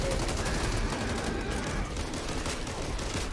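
AA12 automatic shotgun fire in the Back 4 Blood video game: a loud, continuous barrage of rapid shots with dense game noise and no pauses.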